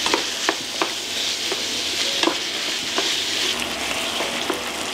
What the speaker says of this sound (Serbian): dodat ću 700 g mlevenog svinjskog mesa i pržit ću dok meso isto ne bude gotovo